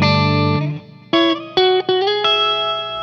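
Electric guitar with the pickup selector in position 2, the quacky in-between setting on a DuckBucker-style pickup, playing a few clean plucked notes and sustained chords with a bright, hollow tone, alone and fairly loud.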